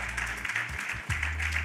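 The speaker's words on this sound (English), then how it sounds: "Clap it up." Brief clapping from a crowd at a community outreach church-style session, a short burst of applause mixed with low background murmur.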